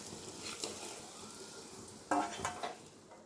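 Soft sizzling as egg roast is stirred in a pan, with a few scraping stirs and light metal clinks, one sharper scrape near the end.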